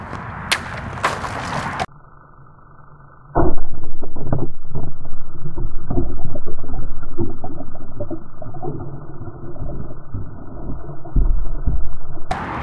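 A Schrade karambit knife cuts and knocks against bottles, making sharp clacks and scraping hits that come in irregular bursts, loud and close, after a short stretch of near silence.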